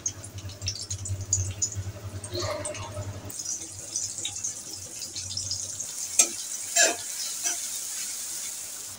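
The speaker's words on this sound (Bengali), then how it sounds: "এখন দিয়ে দেবো পেঁয়াজ কুচি।" Two chopped onions frying in a pan for Bangladeshi boiragi fish curry, a loud sizzling hiss over a low hum that softens after a few seconds, with scattered stirring clinks.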